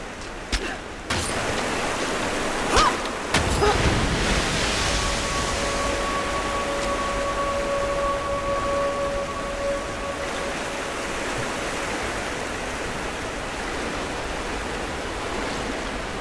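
Rushing water pours in as the water level rises in the Rise of the Tomb Raider video game, a steady, full-bodied roar that carries on evenly throughout, with a faint tonal hum briefly running beneath.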